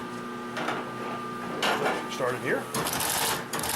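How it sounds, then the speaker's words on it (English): A Consew 744R-30 sewing machine stitches through a stack of 20 layers, its steady motor hum broken by louder, stiffer bursts of stitching in the second half, with a short spoken remark near the start. "we can sew right over 20 layers"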